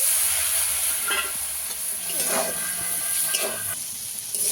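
Potato cooked in a pan with turmeric and chili powder and a splash of water, a close, steady sizzle with scraping stir strokes at irregular intervals and no talking.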